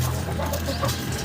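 Gamefowl chicken clucking while being handled, a few short close clucks over a steady low hum.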